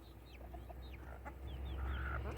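Chickens fed cucumber early in the morning give soft, scattered clucks and short calls over a low background hum, several birds close by and quietly busy.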